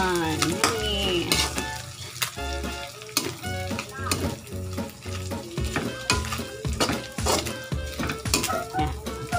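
Dried shrimp paste (alamang) sizzles loudly in a pan while being stirred, with a utensil repeatedly scraping and clinking against the metal in an uneven rhythm and brief talk over the frying.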